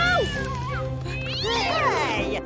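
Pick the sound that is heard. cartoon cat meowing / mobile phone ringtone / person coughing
cartoon cat meowing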